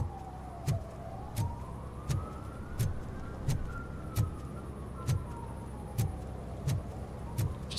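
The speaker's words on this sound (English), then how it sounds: "background police sirens going off" Police sirens wail in the background of the RoboCop video game, a steady rising and falling tone over a rhythmic thumping beat, with no talking.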